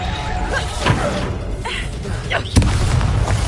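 A Reducto blasting spell in Hogwarts Legacy, with whooshing casts and a sharp explosive crack near the end, loud and close amid rumbling combat noise.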